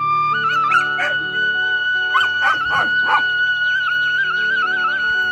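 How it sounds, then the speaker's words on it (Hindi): A dog at a family home whimpers and whines in a high, wavering tone, with several short yips and barks close by, over a constant low hum. "ये मुकुट का कुत्ता भी है हमारे पास है"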